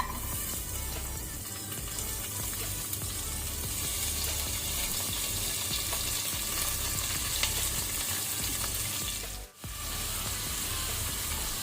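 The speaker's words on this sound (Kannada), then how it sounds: "ಇದನ್ನು ಸ್ವಲ್ಪ ನಾವು ಫ್ರೈ ಮಾಡ್ಕೊಳ್ಳುವ ತುಪ್ಪದಲ್ಲಿ, ಆಗ ಟೇಸ್ಟ್ ಒಳ್ಳೆಯದಾಗ್ತದೆ. ಈಗ ಈರುಳ್ಳಿ ಆನಿಯನ್ ಹಾಕೋಣ" Onions fry in ghee with a dense, continuous hiss and crackle, steady and close throughout, broken only by one brief dip near the end, with no voices.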